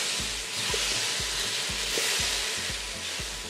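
Dressing sizzles hard in a hot pan with rice noodles, plantain and ginger, a dense hiss over a regular series of low knocks from the pan being tossed.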